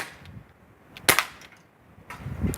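A Crosman C11 CO2 BB pistol fires a single sharp crack at a pan target outdoors, loud and close, with faint background noise before and after.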